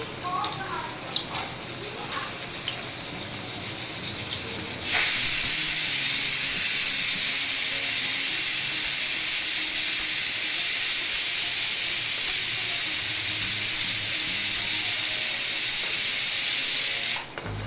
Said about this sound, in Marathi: आपल्याला आता एक एक वळी छान अशी क्रिस्पी करून छान अशी फ्राय करून घ्यायची आहे